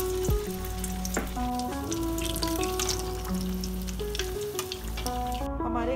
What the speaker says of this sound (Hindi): अब हम इसे कढ़ाई में गरम किए हुए तेल में फ्राई करने के लिए छोड़ देंगे